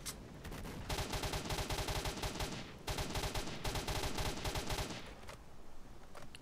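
A new automatic weapon fires in S.T.A.L.K.E.R.: Shadow of Chernobyl in two long, loud, rapid bursts separated by a brief pause, each shot sharp and evenly spaced before the fire cuts off.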